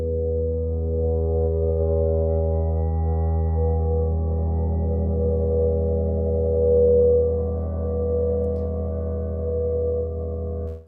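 A sustained Om tone pitched in F sharp drones steadily for about eleven seconds, an even, rich harmonic hum with no breaks, holding one pitch alone until it cuts off at the end.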